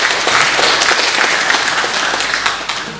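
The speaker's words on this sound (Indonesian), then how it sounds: "Kita berikan aplaus untuk Pak Deputi." Audience applause fills a hall at the opening of a North Maluku mining symposium held for a university's Dies Natalis anniversary. Dense, steady clapping continues at close range for about three seconds, with no talk over it.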